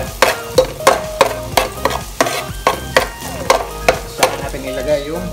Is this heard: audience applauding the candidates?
no